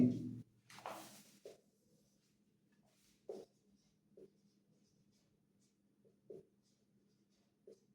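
Chalk or marker strokes scratch across a board during a statistics lesson, a burst of scribbling near the start followed by sparse short taps and strokes separated by quiet gaps.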